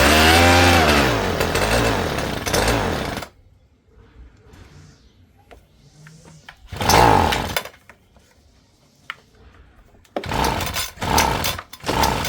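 A Homelite Mighty Lite leaf blower's small two-stroke engine is pull-started, catching and revving loudly for a few seconds, dying into quiet handling noises, then firing again in short bursts of revving.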